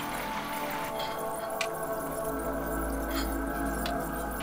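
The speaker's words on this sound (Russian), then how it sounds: "Вода течет направо." Water flows steadily in the Jules Verne Journey to the Moon video game, a continuous liquid wash with occasional soft drips and squishes over a low hum.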